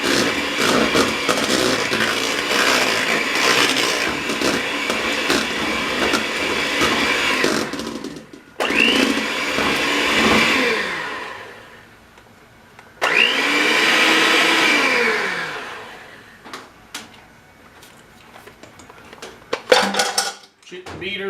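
Electric hand mixer with beaters churning cherries into cheesecake batter, a loud steady whirring drone that cuts out, restarts twice in shorter bursts, then stops amid light clatter.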